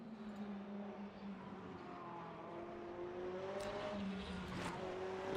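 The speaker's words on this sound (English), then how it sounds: "watch a bit of replay from the outside and get a listen to the car" A Mercedes DTM 2021 race car engine in RaceRoom drones steadily with a rising tonal whine, heard from outside the car at moderate distance with little else around it.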